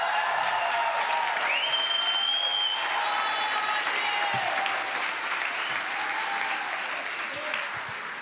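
Church congregation applauding during a sermon, a steady sustained wash of clapping across the whole stretch, fairly loud and even, with faint voices and cheering mixed in.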